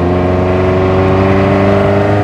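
A modified 1985 VW Golf GTI Mk2 hot hatch's engine pulls steadily while driving, a loud, continuous droning note with strong harmonic tones and no talk over it.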